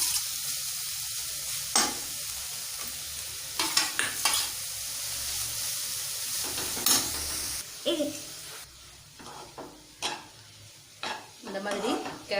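Grated carrot, about 300 grams, stirred in ghee in a kadai, a soft steady sizzle of frying under repeated scraping strokes of a spoon against the pan, with occasional clinks of metal, no voices.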